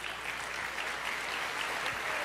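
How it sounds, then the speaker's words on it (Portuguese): A church congregation applauds at a worship service, a steady, even wash of many hands clapping at once, fairly soft and sustained the whole time, with no voices rising above it. "Aplauda bem forte ao Senhor"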